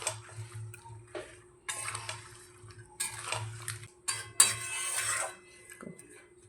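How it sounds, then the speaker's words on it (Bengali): Raw mango pieces being tossed with a spice mix in a bowl, heard as clinking and scraping of utensil against dish in short, irregular bursts. "মশলাটা দিয়ে আমের সঙ্গে খুব ভালোভাবে মিশিয়ে নেব"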